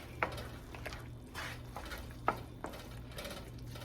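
Ground meat with brown sugar and seasonings being stirred in a pan, giving soft wet squishing scrapes and a few sharp clicks of the utensil against the pan over a faint background hum.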